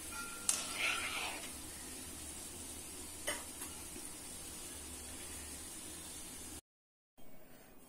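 Gulab jamun, made from mava, frying in hot oil produce a steady soft sizzle with a few faint stirring clicks, a moderately quiet continuous hiss that cuts out briefly near the end.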